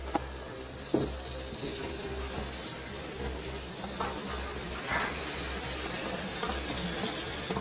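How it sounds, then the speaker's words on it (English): Water runs from a kitchen sink tap in a steady, hissing wash, moderately close, with a faint low hum beneath and a single sharp knock near the start. "the water has come on"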